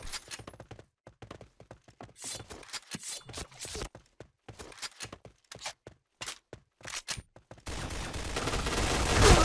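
A video game fires bursts of gunfire and uses a gravity cannon. Rapid clusters of sharp shots break up with short pauses, then a dense roaring blast closes the sequence, loud and up close.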